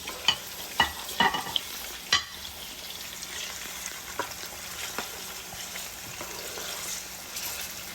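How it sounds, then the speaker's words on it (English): Onions frying in palm oil for a bean stew, with a soft continuous sizzle and a few louder scrapes and stirring knocks early on, then a steadier crackle, close by with no talk. "We will now add our onions and our palm oil and allow it to fry until it's translucent."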